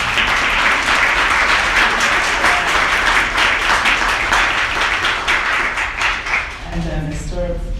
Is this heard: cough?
no